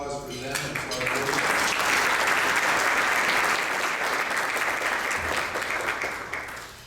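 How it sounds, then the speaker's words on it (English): A room full of people at a breakfast briefing bursts into loud, sustained applause that swells quickly, stays dense for several seconds and tapers off at the end. "Join me in a round of applause for them and for our board."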